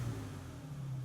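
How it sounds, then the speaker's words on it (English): A Ford Ranger engine idles steadily with a low, even hum, close by and alone with no talk. "So, as you can hear, the engine is running."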